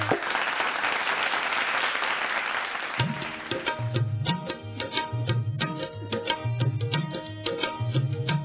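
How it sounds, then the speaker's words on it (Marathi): An audience claps for a team at a Mangalagaur women's games event in Dombivli; a dense burst of close applause fills the first three seconds, then fades out as rhythmic drumming and music begin. "जोरदार टाळ्या या संघासाठी आपण वाजूयात."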